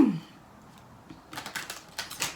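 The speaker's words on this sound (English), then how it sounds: "So we're going to go ahead and just shuffle really quickly." A few quick papery riffles and flicks of tarot cards being shuffled near the mic after a quiet pause, in short bursts.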